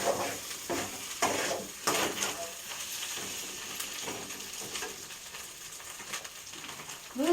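Fish roe fries in hot oil with a continuous crackling sizzle, nearby and moderately loud, punctuated by occasional sharper pops and light utensil scrapes against the pan.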